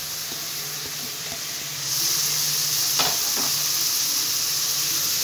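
Ginger, garlic and green chili sauté in a pan with a steady, loud sizzle that swells partway through, and a quick stirring scrape cuts in midway with no voices.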